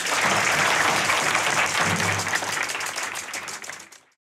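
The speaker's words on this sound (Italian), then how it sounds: "Meraviglioso! Un applauso!" A burst of loud, dense applause from a crowd, steady clapping that thins and fades out over about four seconds, with no speech over it.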